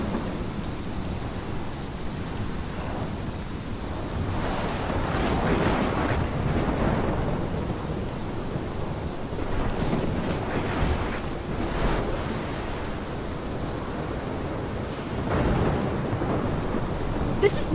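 A thunderstorm in the video game Life is Strange, with steady heavy rain hissing throughout and several deep rumbles and cracks of thunder rolling in at intervals, no voices.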